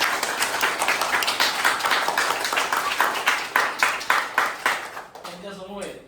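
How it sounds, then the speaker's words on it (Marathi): Applause at a village district council school assembly: a group of people clapping in a steady, dense burst that runs loud for about five seconds, then thins to a few scattered claps. "टाळ्या वाजवल्या जरा."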